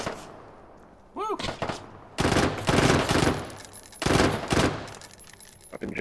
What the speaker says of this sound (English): I can't see where they're shooting from.